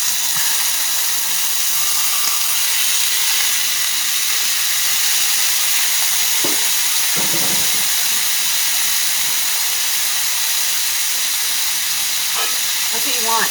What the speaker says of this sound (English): That sizzle, that sear, it's beautiful.